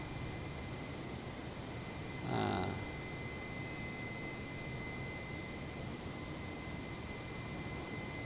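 Airbus A320 jet engines in Microsoft Flight Simulator 2020 during a flight out of Heathrow, a constant, faint broadband roar and hiss throughout with a short swell partway, no talk.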